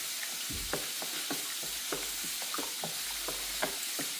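A utensil stirs food in a cooking pan over a soft, constant sizzle, with repeated short scraping strokes at a fairly even rhythm, close by but fairly quiet, with no talking.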